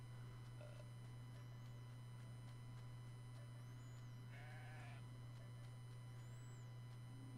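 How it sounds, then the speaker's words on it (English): A video game sheep gives a few faint, scattered bleats over a steady low electrical hum, with no one talking. "Two sheep."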